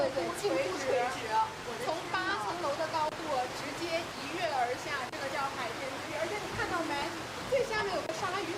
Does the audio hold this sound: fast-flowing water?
yes